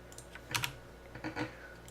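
Keystrokes on a computer keyboard as a database password is entered during a YouPHPTube server install: a few quiet, close clicks in two short bursts, with no talking.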